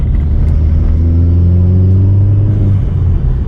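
Opel Corsa OPC engine rumbling steadily while driving through a roundabout, a deep continuous drone with rising harmonic tones, loud and close from inside the car, no talking.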